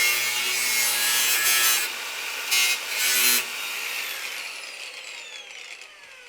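A hand tool shaves and rasps a wooden kitchen cabinet door in a series of close, scraping strokes with brief louder bursts, trailing off toward the end without any speech.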